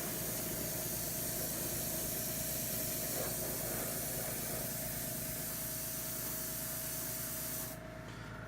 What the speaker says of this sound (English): Listen to the blow of the airbrush in the background.